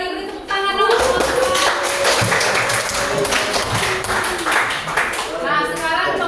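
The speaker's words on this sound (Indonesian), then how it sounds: "beri tepuk tangan dong" After a poem is read aloud in a classroom, a group claps loudly and fairly evenly for several seconds, with voices mixed in under the clapping.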